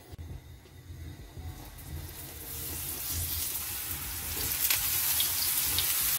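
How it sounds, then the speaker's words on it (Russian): Steady oil sizzling from eggplant slices frying in a hot grill pan, close by, growing slightly louder and brighter toward the end, with no voices. "Баклажаны я буду жарить на сковородке гриль"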